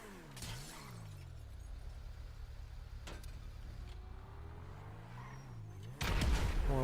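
Sticky bomb blast destroying an expensive supercar in GTA Online, a sharp explosion at the start and another burst near the end over a steady car engine drone, with a siren-like sweep in between.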